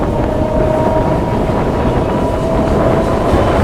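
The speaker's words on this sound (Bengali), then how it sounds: "আর আমি তো বকখালি ট্রেনে করে যাচ্ছি" A passenger train bound for Bakkhali rolls along steadily, giving a continuous close rumble with a faint tonal whine and a little wind buffeting, with no talk.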